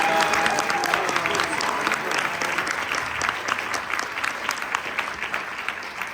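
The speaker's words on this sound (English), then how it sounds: "Can we give Adrian a hand round of applause for hosting us?" Audience applause after a film screening and panel discussion, a full round of clapping from a crowd that stays strong for several seconds and then begins to thin out.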